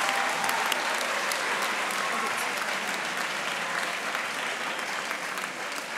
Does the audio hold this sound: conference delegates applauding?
yes